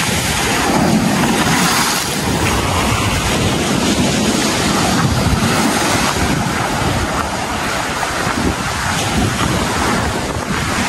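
Loud, continuous roar of surf and gusting wind at Talao-Talao Beach in Quezon during a typhoon, with heavy wind buffeting the microphone and crashing waves filling the whole stretch without a break.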